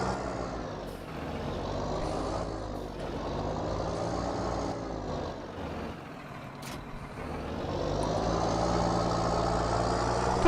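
A loud tractor engine idles steadily in Farming Simulator 19, a constant low diesel drone that swells slightly toward the end.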